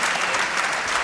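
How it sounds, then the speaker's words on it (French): A TV studio audience on a French talk show breaks into brief, dense applause, a full wash of clapping lasting about a second. "Faut pas applaudir une chose pareille."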